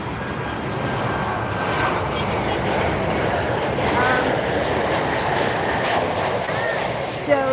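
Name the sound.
airliner arriving at Miami Airport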